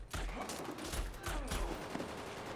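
Gunfire in a film shootout with terrorists on a remote island: a rapid, loud fusillade of overlapping shots and bursts that fills the whole short stretch.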